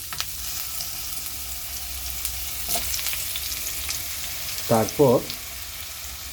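Large pumpkin pieces fry in hot oil with cumin, a constant crackling sizzle close by, with a short burst of speech near the end.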